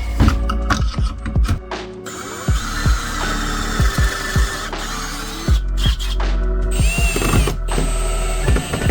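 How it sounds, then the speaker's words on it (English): A power drill bores pocket holes to join two boards inside a cargo trailer, its motor whirring loud and close in a continuous run with clicking mechanism bursts and pitch changes as the bit bites. "I'm going to attempt to use pocket holes to join these two boards together"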